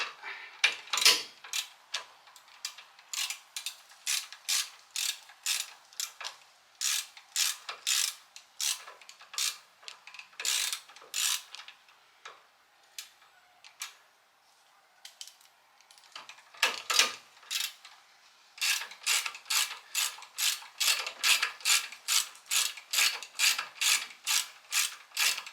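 Rapid ratchet wrench clicking while bolts are tightened on the front disc brake assembly of a 1969 Oldsmobile Cutlass, repeated bursts of crisp close clicks with short pauses, no talk.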